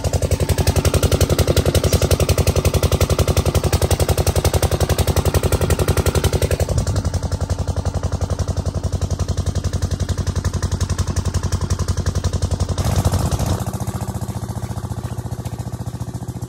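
A farm engine used for vegetable crop work runs loudly and steadily, chugging with a fast regular pulse that shifts pitch slightly partway through before settling, with no talk.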